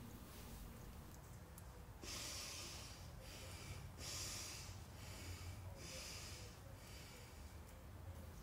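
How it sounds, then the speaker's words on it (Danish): A person gasping for air after airless squats, with repeated loud, harsh breaths drawn in and pushed out at a steady pace, close and alone. "Prøv at høre en gang, hvordan jeg nærmest gisper efter luft."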